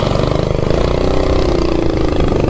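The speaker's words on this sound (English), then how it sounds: "first 0 to 30 with the 420 big block on the CT200U EX" A CT200U EX minibike fitted with a 420cc big block engine revs hard through a 0 to 30 run, its loud, steady, close engine roar rising in pitch without a break and with no voices.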